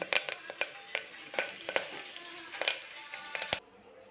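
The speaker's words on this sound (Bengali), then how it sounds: "এবার তেল গরম হয়ে গেলে কালো জিরে ও কারি পাতা" Nigella seeds and curry leaves crackling in hot oil, with a steady fizzing sizzle broken by repeated sharp pops and spits, close and fairly loud, ending abruptly.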